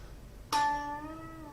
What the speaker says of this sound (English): I play a string bend up, release, string bend up, release